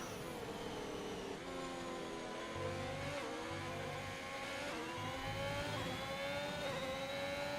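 Formula racing cars in a video game whine past one after another, their high-pitched engines rising and falling through gear changes in a steady, continuous stream of revving.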